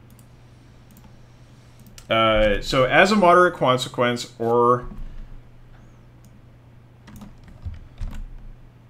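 Clicks of a computer keyboard sound softly and sparsely before and after someone speaks, set over a steady low hum.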